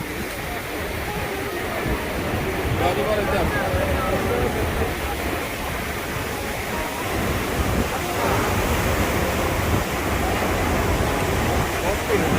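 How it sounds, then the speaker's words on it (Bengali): Sea waves roar at night on Kuakata beach in a continuous, broad rumbling wash of surf with gusty wind noise on the microphone, steady and loud throughout with no talk. "আপনারা সমুদ্রের গর্জন শুনুন"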